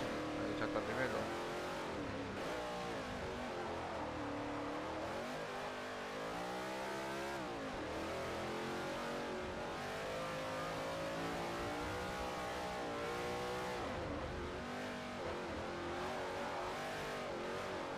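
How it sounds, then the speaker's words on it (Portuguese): Race cars in the Xbox 360 game Forza Motorsport 4 rev and roar continuously, engine pitch rising and falling through gear changes for the whole stretch, loud and steady with someone talking over the game audio. "Se o som do carro estiver muito alto,"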